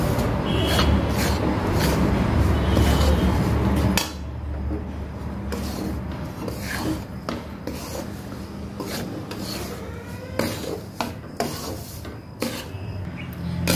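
Sabudana laddu mixture for a Navratri fasting sweet is stirred and mixed by hand in a pot, with continuous close scraping and rubbing that turns into softer, intermittent stirring knocks.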